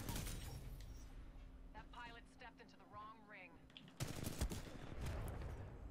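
Gunshots in a first-person shooter video game, a dense burst of rapid fire at the start and again toward the end, loud over game noise, with someone talking between the bursts.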